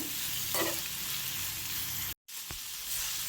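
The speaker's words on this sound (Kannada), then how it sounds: "ನೋಡಿ ಇದು ಫ್ರೈ ಆಗ್ತಾಯಿದೆ" Ridge gourd peel fries in a hot pan with salt, giving a steady close sizzle broken by scraping stirs and a brief dropout near the end.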